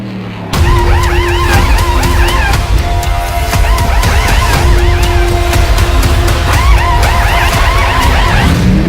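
Pit stop during an iCAR Cup Series race at Auto Club in a racing video game: loud, steady car engine roar with rapid mechanical clatter and whining tones, close and continuous throughout.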